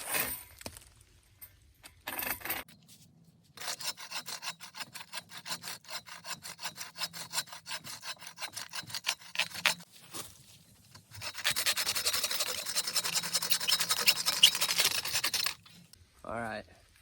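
A saw cuts through the tip of a log at a bushcraft cabin build, with rhythmic back-and-forth strokes in two long bursts separated by brief pauses, close and fairly loud.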